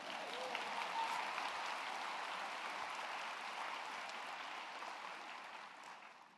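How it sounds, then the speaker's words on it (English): Audience applause at an award ceremony, a broad wash of many hands clapping in a large hall, steady and fairly distant, slowly fading toward the end. "I should let you applaud first"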